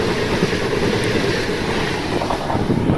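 A train runs on a single-line rural route near Vijayawada, where a passenger train waits as a Lingampalli–Vijayawada superfast passes. The result is loud, continuous, close rumbling and rattling with faint wheel clatter and wind buffeting, and no voices.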